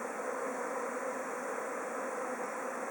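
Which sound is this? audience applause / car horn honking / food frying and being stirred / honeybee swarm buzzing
honeybee swarm buzzing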